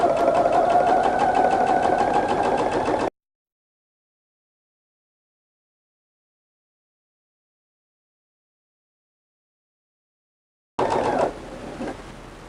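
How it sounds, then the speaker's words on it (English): Sewing machine stitching a half-inch seam in velvet, a close, steady rapid whir for about three seconds, then a long silent gap before a shorter burst of machine noise resumes. "I'm going to sew it with a 1/2 inch seam allowance"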